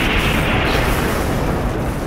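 A loud, sustained explosion sound effect played from a phone app, a dense roaring rumble that fills the whole moment without letup.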